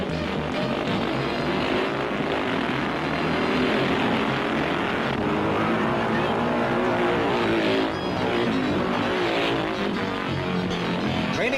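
Speedway motorcycles roar together in a practice race on a cinder track, a dense, continuous engine snarl that stays loud throughout with slight rises and falls as the machines pass.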